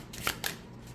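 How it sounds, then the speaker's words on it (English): Overhand shuffling of a Herbcrafters Tarot deck on thin US Games cardstock: two quick, crisp riffling bursts close by, the second a double flick, over a quiet room. "there's also no issues with overhand shuffling"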